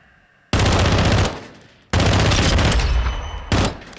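Gunfire from a tactical weapon in Call of Duty Modern Warfare II, three loud close bursts of rapid shots, each cut off by a short pause, the last one brief.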